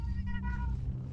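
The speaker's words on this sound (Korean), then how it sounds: "네 고양이 때문에 걸리겠다." A single drawn-out cat meow in the Arma 3 military game, clear and close over a low rumbling background.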